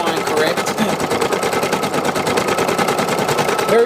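Embroidery machine stitching out a design outline, a fast even mechanical chatter of needle strokes in a steady rhythm, close and continuous.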